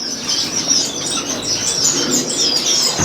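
Aviary birds freshly released into quarantine flight cages chirp and tweet continuously close by, with soft wing flapping and fluttering mixed into a busy, steady chorus and no talking.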